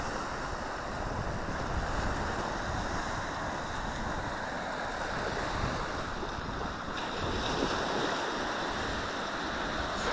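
Atlantic Ocean surf rolling onto a windy beach, a steady broadband wash of waves with wind rumble buffeting the microphone, continuous and close with no voices.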